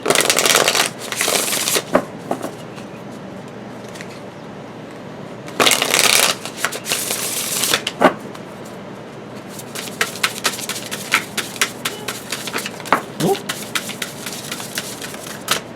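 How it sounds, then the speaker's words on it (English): Tarot cards riffle and shuffle in several quick bursts, crisp and close, followed by lighter flicks and taps of the cards being handled, with no talking. "I'm going to do one more shuffle."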